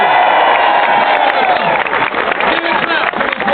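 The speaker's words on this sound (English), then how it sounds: "Give them a clap." A large crowd at a political campaign rally outdoors, loud sustained clapping mixed with cheers and whoops, a continuous roar with voices in it.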